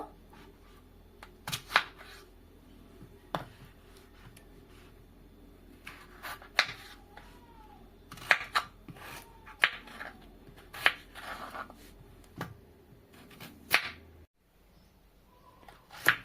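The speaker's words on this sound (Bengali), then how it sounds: "এগুলো এভাবে পিস করে নেব।" A knife cuts peeled, washed raw potatoes into pieces on a board, giving irregular soft thuds and chops spaced a second or two apart at close range, with faint background noise.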